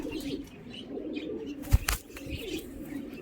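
A carrier pigeon coos softly in low, rolling murmurs, with a brief flutter of wings midway. The sound is faint and close, with no talking.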